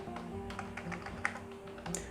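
Keys tapped on a computer keyboard while entering text in motion graphics software, a few soft scattered clicks over a steady low electronic hum, close and quiet.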